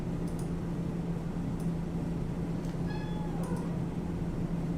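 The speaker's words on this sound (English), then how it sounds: "You have a question, Kitty?" A cat meows a few times, faint and brief, over a steady hum and background noise.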